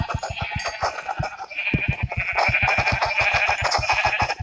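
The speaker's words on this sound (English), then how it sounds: "How dare you spawn in my sheep?" Repeated sheep bleats from Minecraft, a steady run of short calls over continuous game ambience and music, fairly loud and close, with no talking.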